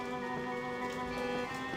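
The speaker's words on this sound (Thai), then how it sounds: "ฝนก็ตกหัวเปียกหมดแล้วเนี่ย" Steady rain from the video game Alice: Madness Returns patters softly over a humming, tonal background, a quiet continuous wash with no voices.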